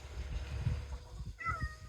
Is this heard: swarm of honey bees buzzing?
no